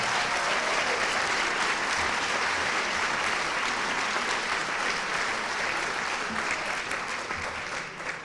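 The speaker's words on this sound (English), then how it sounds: "So I'd like to give the class of 2014 another round of applause." Sustained applause fills a high school senior honors convocation hall, many hands clapping in a dense, even roar for the class of 2014 that tapers off only in the final second.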